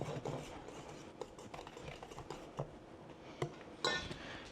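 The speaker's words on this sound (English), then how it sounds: "I use that pastry blender just to kind of mix that in." A pastry blender works baking powder and salt together in a mixing bowl for flaky buttery biscuits, giving off irregular clinks and scrapes of metal against the bowl with a few sharper knocks, fairly close.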